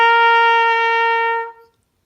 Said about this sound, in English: So that is the sound of the trumpet.